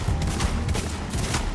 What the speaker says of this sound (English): Right, stop shooting me.